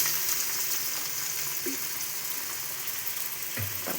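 Onions and tomato fry in a pan for vegetable pulav, a continuous close hiss and sizzle with a couple of brief stirring scrapes.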